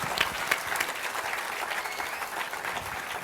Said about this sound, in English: Clap for these people now.